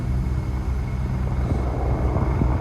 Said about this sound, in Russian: у нас вертушка где-то полетела